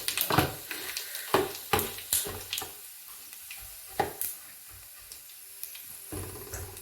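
Crushed fennel and cardamom sautéing in a pan for hotel-style biryani, with repeated loud clanks and scrapes of a utensil against the pot over a soft, fading sizzle.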